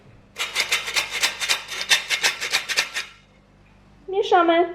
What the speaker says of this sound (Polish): zaczynamy od jednej łyżeczki soli, wrzucamy tutaj do siewnika i przesiewamy